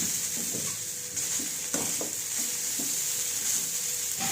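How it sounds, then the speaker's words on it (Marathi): Sabudana khichdi sautés on a low flame with a soft continuous sizzle, punctuated by repeated close spatula stirs and scrapes against the pan. "आता आपण थोडासा गॅस कमी करूया आणि हे सर्व व्यवस्थित मिक्स करून घेऊया."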